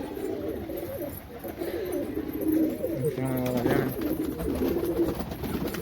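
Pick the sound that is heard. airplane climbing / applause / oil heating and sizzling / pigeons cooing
pigeons cooing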